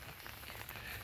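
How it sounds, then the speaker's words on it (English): Rain falls outdoors on tall grass near a creek. It makes a faint, steady, diffuse patter with no voices. "And it's raining and it's wet."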